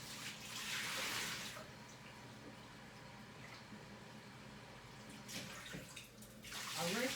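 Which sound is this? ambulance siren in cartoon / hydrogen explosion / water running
water running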